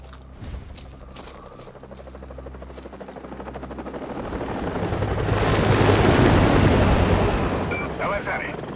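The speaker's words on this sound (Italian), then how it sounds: "Elicotteri nemici." Enemy helicopters in the video game Call of Duty Modern Warfare Remastered, a rotor roar that swells loud and close over a dense battle bed of gunfire and explosions, with radio-style voices talking early on.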